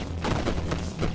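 Gunfire in the run-and-gun roguelite video game Still Not Dead: a quick burst of several rapid, punchy shots in a short cluster, fairly faint.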